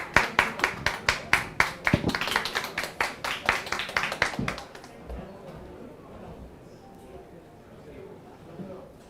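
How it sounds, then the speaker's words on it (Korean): An audience at a conference claps for a speaker, a dense burst of close applause that fades after about four seconds into quieter room noise. "큰 박수 부탁드립니다."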